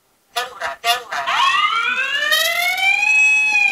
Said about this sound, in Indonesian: Nah, mode 4 ini adalah mode darurat. Ini sepertinya mode alarm gitu ya.